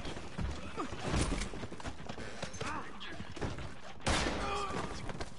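Gunfire in the Western video game Red Dead Online during a posse shootout at Armadillo, a dense fusillade of shots with a sharp loud burst near the end, mixed with hoofbeats and clattering game noise.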